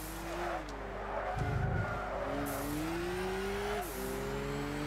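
Race car engines roaring during a Gran Turismo 6 World Circuit Tour race, sustained high revs with audible gear shifts and a brief burst of tire skid, close and loud throughout.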